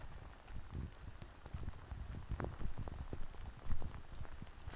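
Dense patter of heavy rain in a Konkan village hitting surfaces nearby, a continuous irregular tapping with some heavier splashes, no voices.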